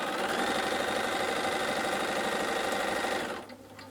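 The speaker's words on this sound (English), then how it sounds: "I'm just going to keep sewing this border on" A sewing machine runs steadily while sewing a quilt border, a close continuous whir that holds for over three seconds before slowing and stopping.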